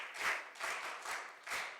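Audience applause welcoming sister Geeta at a girls' character-building camp, a steady wash of clapping from a gathered crowd that swells in several waves and carries on throughout.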